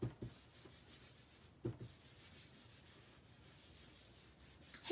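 An embossing buddy is rubbed over paper before stamping snowflakes: soft, dry scuffing strokes, quiet and close, with a couple of sharper swipes and no talking.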